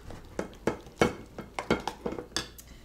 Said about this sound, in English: we're going to add just a touch of olive oil. Boop. No more. And we're going to mix that around